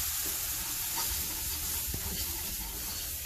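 Hot broth poured into a roux for beef tips with gravy sizzles and bubbles steadily for the whole stretch, a dense frying hiss close at hand with no talking.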